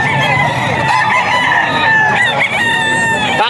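A rooster crows loudly and close by amid clucking chickens at a seller's stall in Bocaue, Bulacan, with the crow stretching through most of the stretch over a busy, noisy background.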